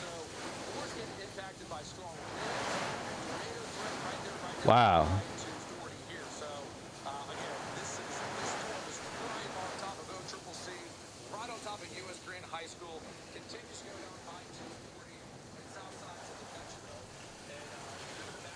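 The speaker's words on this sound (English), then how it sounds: "we have very, very intense winds" Strong wind roars and buffets the microphone throughout, with people talking over it and a brief exclamation partway through.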